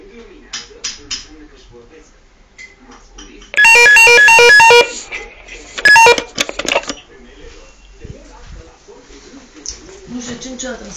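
A phone ringtone sounds close and loud in two bursts during an attempted call, a longer ring followed by a shorter one, with quiet speech and small household noises before and after.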